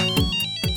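A telephone ringtone announces an incoming call in a Hindi sitcom household, a loud, bright electronic melody of repeating tones that sounds twice with a short pause between them and is heard alone.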